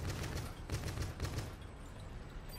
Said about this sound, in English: The assault rifle mode is 3 shots